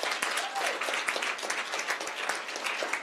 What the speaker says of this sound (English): let's give a round of applause to those who organized this for AFSCME